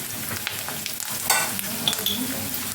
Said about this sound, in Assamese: আৰু বাদামখিনি এতিয়া ভাজি ল'ম ধুনীয়াকৈ